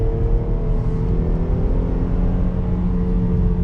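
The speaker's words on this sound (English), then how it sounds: "that's a nice sounding V6" V6 engine of a 2019 Jeep Grand Cherokee Limited X revving under way, a loud, steady droning hum with a smooth, even pitch and no talking.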